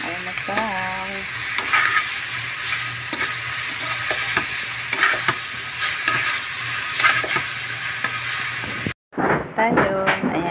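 Garlic fried rice frying in a pan: a steady sizzle with frequent stirring and scraping strokes, close and fairly loud, interrupted by a brief silence near the end. A voice speaks briefly at the start and again at the end.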